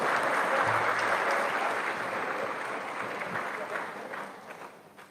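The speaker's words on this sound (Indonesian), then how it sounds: "Ya, tepuk tangan." Steady applause from a crowd at a university graduation ceremony, dense clapping that holds for several seconds and gradually thins out toward the end.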